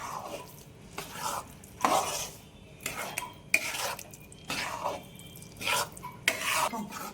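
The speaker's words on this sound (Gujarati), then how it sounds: "ધીરે ધીરે ધીરે ધીરે આપણે આમાં મિક્સ કરતું જવાનું આવી રીતે" Adadiya mixture being stirred with sugar syrup in a pan, with repeated scraping and clinking strokes of a spoon against the metal, close and steady with no talking.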